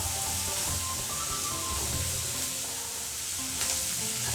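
Onions frying with salt and turmeric in a pan for suran (elephant foot yam) curry give off a continuous close sizzle with light stirring throughout and no talk.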